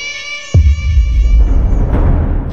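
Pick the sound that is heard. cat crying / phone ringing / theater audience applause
cat crying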